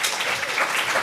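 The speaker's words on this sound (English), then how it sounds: "you are giving, I hope, yourselves a round of applause when you clap" An audience at a political talk claps in a brief, dense burst of applause, steady and fairly loud for about a second.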